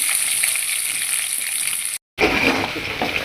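Cumin, vadagam and chopped onion frying in hot oil, a dense steady hiss and crackle up close, briefly cut to silence midway before resuming just as strongly.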